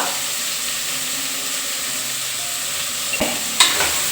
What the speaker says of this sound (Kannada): ಚೆನ್ನಾಗಿ ಫ್ರೈ ಮಾಡ್ಕೊಳ್ಳೋಣ ಎಣ್ಣೆಯಲ್ಲಿ